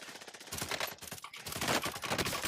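Dense automatic gunfire in Warzone, loud and close, with fast overlapping bursts that continue without a break.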